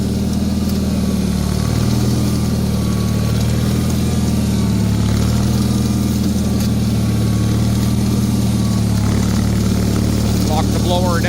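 A snowblower engine runs steadily while chewing into hard-packed snow, a constant near drone with low humming tones throughout and a brief rising whine near the end.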